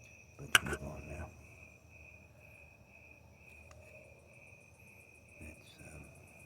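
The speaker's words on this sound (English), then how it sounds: "Thank the crickets for their noise floor." Crickets chirping at night in a steady, high continuous trill throughout, with a couple of brief handling knocks near the start.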